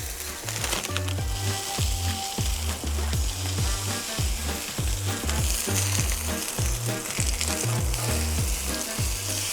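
A homemade sausage patty fries in a hot pan with a steady, loud, close sizzle and crackle that runs throughout, with faint rhythmic scraping underneath and no voices.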